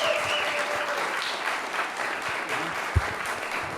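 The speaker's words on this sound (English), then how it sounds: "Please give a warm round of applause for Oscar Brophy!" A small open-mic comedy crowd applauds comedian Oscar Brophy, a dense, steady wash of clapping at moderate distance with one sharp thump near the end.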